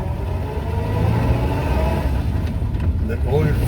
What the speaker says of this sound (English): It's beautiful purring of the engine.